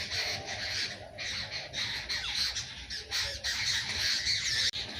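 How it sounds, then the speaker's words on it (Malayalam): Birds squawk repeatedly in rough, scratchy calls, fairly soft and at a moderate distance, continuing steadily throughout. "പിന്നെ ഈ കിളികളുടെയൊക്കെ ശബ്ദം ഉണ്ടാവും"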